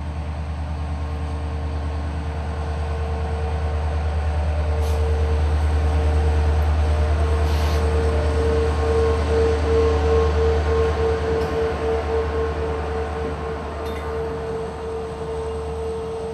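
Freight train 0805 with run-through locomotive power hauls loaded diammonium phosphate hoppers through Florida's Bone Valley, a loud sustained diesel drone with steady rumbling wheels and a tonal whine passing close by.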